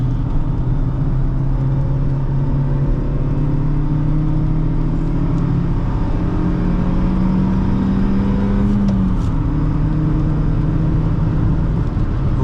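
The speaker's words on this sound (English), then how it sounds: "Today we're driving a 2008 Honda Fit, but this is no ordinary Fit, this is one with a stick shift." A 2008 Honda Fit with a five-speed manual gearbox drives along, its engine a steady loud mid-range drone with rising and falling revs over constant road rumble and cabin noise, no voices.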